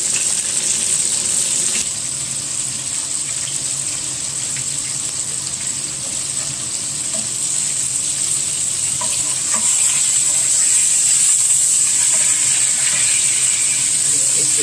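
A pot roast searing in a hot pan, a steady bright sizzle running continuously and loud from start to finish, swelling slightly toward the end as the meat is flipped.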